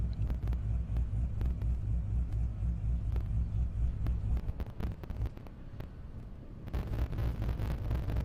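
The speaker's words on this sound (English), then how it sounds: "Kevin Kahn and the Corvette pulling up" A Corvette drag car rolls up to the line at an airstrip drag race, its deep engine rumbling and burbling loudly with wind buffeting the microphone, the throb briefly dipping then swelling again.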